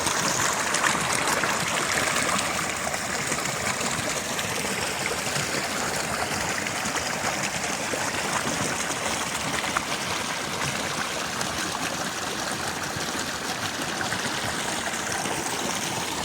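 Milky snowmelt water rushing down a mountain stream in a forest, a steady close-up wash of flowing water with no pauses.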